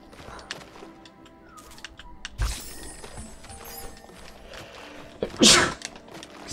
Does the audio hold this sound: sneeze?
yes